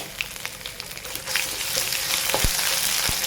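Ginger garlic paste frying with browned onions for a curd bhindi masala curry, a crackling sizzle that grows stronger partway through, with a few soft knocks of the spoon against the pan, heard close and alone.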